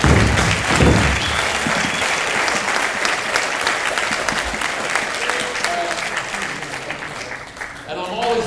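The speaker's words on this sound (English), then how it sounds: "let's give everyone a round of applause" Sustained applause fills a Native American graduates honoring ceremony, dense clapping from a large crowd held at steady volume throughout, with a few voices faintly audible beneath it.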